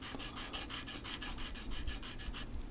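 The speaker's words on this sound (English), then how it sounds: "And a little sanding," Sanding a small scale-model part by hand, with quick rhythmic back-and-forth rasping strokes, faint and close, about a dozen passes with no speech.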